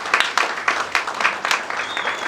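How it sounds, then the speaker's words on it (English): A small audience gives a brief round of applause after a documentary screening at a 50th birthday celebration, fairly close claps in an uneven patter that trails off within a couple of seconds. "Can we give them one more round of applause?"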